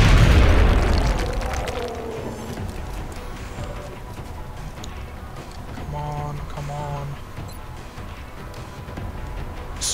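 A grenade detonates in the XCOM: Enemy Within strategy game, a loud low boom at the start that rolls off and fades over a couple of seconds, followed by quieter game effects and a brief two-part electronic tone.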